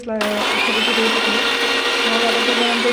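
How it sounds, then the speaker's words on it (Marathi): A mixer grinder whirs loudly and steadily, grinding peanut and garlic chutney, running continuously at high speed throughout. "मिक्सरमध्ये घालून ते सगळं"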